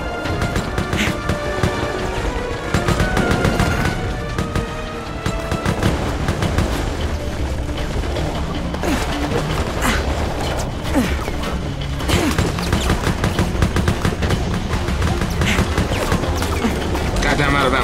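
Rapid video game gunfire from Resident Evil: Operation Raccoon City, dense bursts and booms mixed with mechanical clatter and game music, loud and continuous throughout, with players talking over it.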